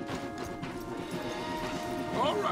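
Horses' hooves clip-clop in Red Dead Redemption 2, a steady rhythmic clatter in the foreground under a bed of game ambience, with a brief whinny-like call near the end.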